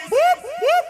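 A person's voice imitates a wailing police siren, two rising-falling swoops in quick succession, close and clear.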